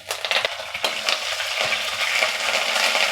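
Curry leaves, peanuts, chana dal and green and dried chillies fry in hot oil, a loud, continuous close-up sizzle broken by quick scraping stirs early on, with no talk.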